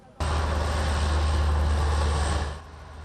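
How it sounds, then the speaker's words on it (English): F-16 fighter jets taking off in a Taiwanese military drill give a loud, sustained engine roar with deep rumble and hiss that holds steady for a few seconds before easing slightly at the end. "F-16 fighter jets scramble to take off, and a military cargo plane rushes to deliver equipment and personnel."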